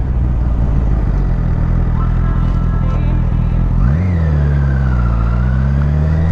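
Honda CBR1000RR motorcycle engine while riding, a loud, continuous close-up drone with a clear rising and falling pitch as the rider changes speed, plus steady wind rush.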